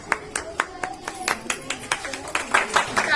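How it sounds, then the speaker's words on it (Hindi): Scattered hand clapping from a small group at a school management committee meeting, a series of sharp, evenly spaced claps that grow a little denser toward the end, with faint talk underneath. "तालियां बजाते हैं।"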